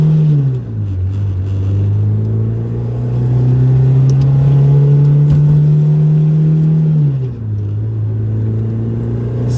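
Loud, steady engine drone inside a Toyota MR2 Spyder moving on a freeway, with a low hum that rises and dips as the vehicle speeds up and shifts.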